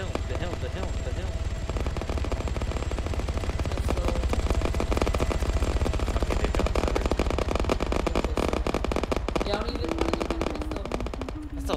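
Rapid pistol gunfire in a first-person shooter game, dense overlapping shots rattling continuously against steady game noise, with players chatting over it.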